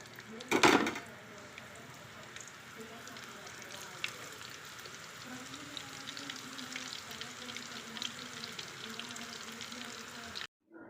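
Mutton kola balls sizzle and fry steadily in hot oil, a continuous close crackle with a louder burst near the start as the batch drops in.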